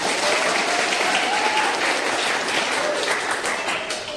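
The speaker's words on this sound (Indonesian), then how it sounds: "boleh kasih minta tepuk tangan untuk kita semuanya" A morning seminar audience breaks into loud, dense applause that continues steadily for a few seconds, with a faint voice speaking underneath before the clapping starts to taper off.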